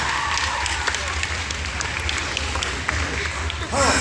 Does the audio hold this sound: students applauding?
yes